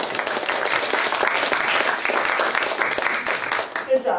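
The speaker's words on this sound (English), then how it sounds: "Give yourselves a round of applause" Workshop participants give themselves a round of applause, a full, continuous burst of clapping from a room of people that stays strong and tapers slightly near the end.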